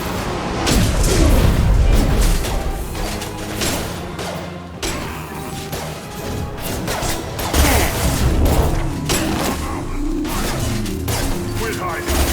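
Grenade explosions and combat in Mass Effect 2 rumble through a busy battle mix, with booming blasts, crashes and whooshes layered over shouting voices and gunfire.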